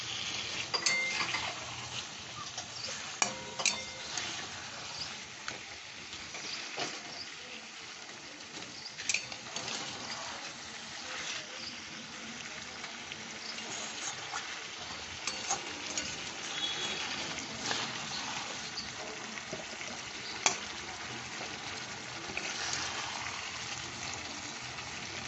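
Salted chicken for doi chicken is stir-fried in a pan, giving a soft steady sizzle with frequent clinks and scrapes of a spatula against metal, fairly quiet throughout.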